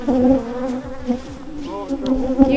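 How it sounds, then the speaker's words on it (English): Honey bees buzz loudly and continuously around beekeepers working a hive, a dense droning hum with wavering pitch, close by and filling the whole moment. "I got a couple bees inside here."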